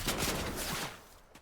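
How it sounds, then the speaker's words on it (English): Assault rifle fire in a video game, a dense rapid burst that fades away within about a second. "Use the assault rifle."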